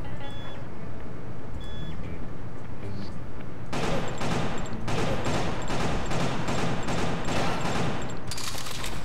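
Gunfire in the game Killer 7, a sudden loud barrage that starts partway through and keeps going in dense rapid bursts, with electronic beeps over it.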